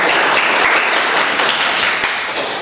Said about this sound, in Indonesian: Beri tepuk tangan buat kita.